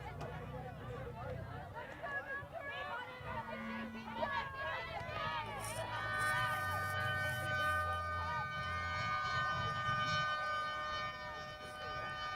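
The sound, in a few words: end-of-game siren at sports field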